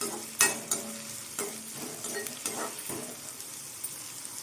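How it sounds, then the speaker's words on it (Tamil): Sliced onions sauté in oil in a pan for coconut rice, a gentle sizzle under repeated scraping stirs from a spoon, close and without talk. "இப்போது வெங்காயம் வந்து ஓரளவு மீடியமாக வதங்கட்டும்"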